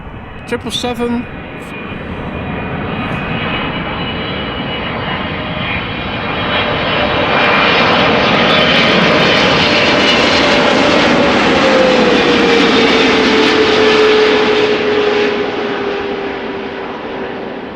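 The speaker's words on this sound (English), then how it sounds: "777 arriving from Curaçao, Willemstad, 777." A Boeing 777 arriving at Amsterdam Schiphol sweeps past with a rising jet roar that peaks loud mid-pass, then a whining engine tone slides downward as it recedes, with brief talk at the start.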